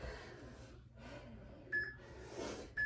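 Electronic beeps from a workout interval timer counting down during a total body conditioning class: a couple of short, steady tones near the end, over a faint room background.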